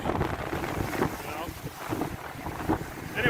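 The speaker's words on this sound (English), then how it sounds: "You can see the waves. They're crashing in." Ocean waves crash onto a rocky shoreline, a steady roaring wash with heavy wind buffeting the microphone, constant and fairly loud.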